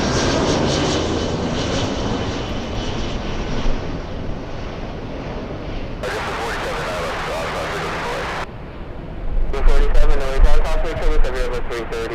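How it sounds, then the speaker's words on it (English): An Airbus A330 on final approach landing at LAX roars loudly and steadily in the open air, with wind buffeting the microphone and a voice talking over the engine noise. "The aircraft type, an A330 on final."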